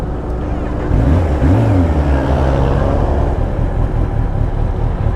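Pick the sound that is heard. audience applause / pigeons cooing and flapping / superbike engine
superbike engine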